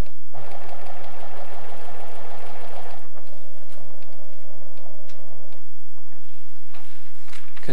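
A sewing machine stitches a narrow zigzag bar tack, buzzing in short close bursts, a longer run for about three seconds then a briefer one, with pauses and small ticks between.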